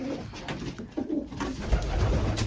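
Racing pigeons coo inside an open aviary, with soft, repeated throaty calls close by. Faint rustling and low background noise run beneath them.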